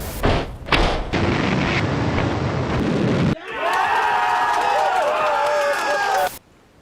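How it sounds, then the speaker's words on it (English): Space Shuttle Atlantis on its final liftoff: a loud, continuous rocket roar with deep rumble and crackle, shifting midway into a brighter, ragged blast before cutting off near the end. "Zero and liftoff, the final liftoff of Atlantis."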